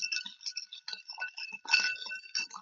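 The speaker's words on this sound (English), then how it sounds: "we're going to give this a little stir" Ice cubes clink and rattle against glass as a Manhattan cocktail is stirred, a quick run of bright, close, delicate tinkling with no voices.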